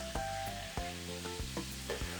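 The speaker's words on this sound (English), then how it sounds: "now we're just going to go ahead and top this all off with some soda water" Soda water fizzing as it tops off a skinny mojito in a glass, a close, steady sizzling crackle with a few soft clinks, with no voices.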